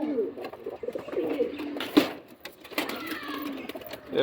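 Madras pigeons cooing close by in a series of soft, throaty, repeated coos with rising and falling murmurs, moderately loud against quiet background.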